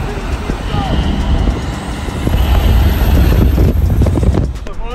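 A Bugatti Chiron Super Sport of 1600 hp accelerating hard in a roll race, with a loud, deep engine roar swelling steadily, heard from inside or close by, and voices shouting over it.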